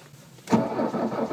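Diesel car engine cranking in -20 degree cold and failing to start, a loud sustained churning of the starter motor that begins abruptly and keeps grinding without catching.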